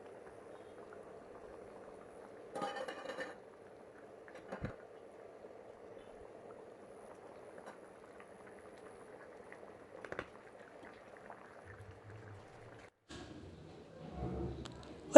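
Soft, continuous bubbling of lentil dumpling curry (paruppu urundai kuzhambu) boiling in a covered pot, broken by a few brief clatters and knocks.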